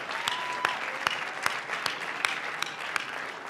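Graduation ceremony audience in Los Angeles applauds honor graduates with a continuous, moderately faint patter of clapping, punctuated by a few sharper, evenly spaced claps standing out above the crowd.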